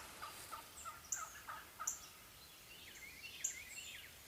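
A wild turkey gobbles in the distance on an early-morning hunt, with several faint rattling gobbles repeating over a quiet outdoor background.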